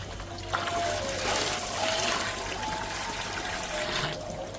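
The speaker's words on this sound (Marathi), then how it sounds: "आता मी कूलर भरत आहो" Water pours steadily into a household air cooler being filled, a continuous splashing, gurgling stream close by that holds level for several seconds with no talking.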